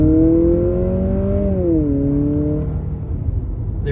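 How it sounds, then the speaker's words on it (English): A 2025 Honda CR-V e:HEV RS hybrid SUV in sport mode accelerates with a smooth, droning engine groan from its CVT. The tone holds steady, dips slightly, then fades under road noise inside the cabin. "there is a bit of CVT groan, and the engine noise is coming from the speakers"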